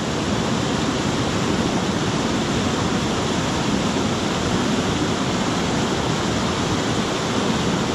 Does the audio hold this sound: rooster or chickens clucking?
no